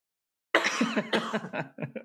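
A close, loud bout of coughing: a harsh burst, then several shorter coughs trailing off, after a moment of silence.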